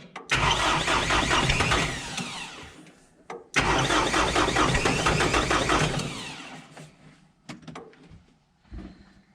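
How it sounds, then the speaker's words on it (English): A Kubota M9540 tractor's diesel engine cranks and catches in two loud starting attempts, each a few seconds of churning starter and engine roar, then drops to quieter intermittent knocks and clunks as it fails to keep running. "Go ahead and try to start it."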